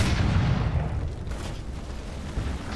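Tank cannon fire in War Thunder booms out as a loud, dense blast that rumbles and decays over a couple of seconds, with another heavy thud following near the end and no talking.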